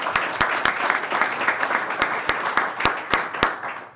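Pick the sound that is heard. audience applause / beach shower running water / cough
audience applause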